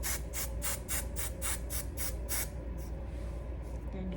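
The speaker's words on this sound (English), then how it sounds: "You can just get you a small little can, and I'm gonna just spray" A small can of Got To Be glue spray fires a rapid series of about nine short hissing bursts onto a transparent lace wig, close and even in rhythm, then falls silent apart from faint room sound.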